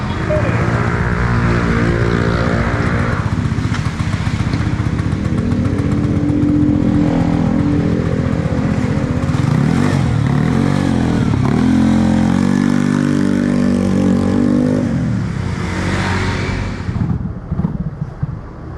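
A Vespa Primavera scooter engine bored up to 63 revs close by, a loud buzzing drone that rises and falls through several throttle blips before easing off at the end.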